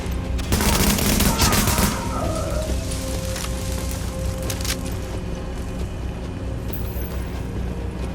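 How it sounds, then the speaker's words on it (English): Gunfire rattles in The Division, a dense close burst of shots lasting over a second that gives way to scattered sporadic reports against a steady ambient rumble. "So, that shooting, that was you, right?"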